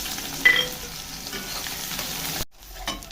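Onions fry in hot oil in a pan with a steady sizzle and stirring scrapes, a louder burst near the start and a brief silent break near the end.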